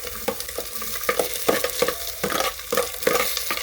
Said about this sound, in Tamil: கட் பண்ணி வச்சுருக்க வெங்காயத்தை போட்டுக்கோங்க